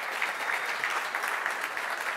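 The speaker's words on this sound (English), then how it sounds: "Give him a round of applause." An audience at a ZBrush 4R7 software reveal presentation claps together in a sustained, even burst of applause, close and fairly loud with no voices on top.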